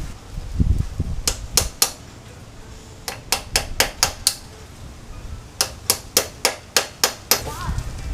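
A steering bearing tapped into a Suzuki Boulevard C50 motorcycle frame with a hammer on a socket, sharp metallic strikes in quick rhythmic bursts of several blows each, close and loud in a workshop.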